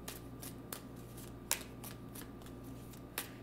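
Tarot cards being shuffled by hand, with a steady soft riffling texture broken by a few sharper slaps and snaps as the deck is squared, set against a faint constant hum.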